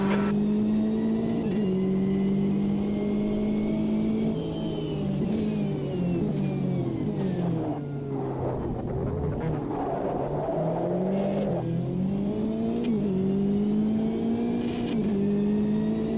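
Race car engines in the sim racing game Automobilista 2 whine steadily for a long stretch, pitch climbing and dropping through gear shifts and braking, with another car's engine passing close by.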